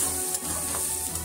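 Onion and egg bhurji sizzles steadily in a hot pan while being stirred, a continuous close frying hiss with no talk.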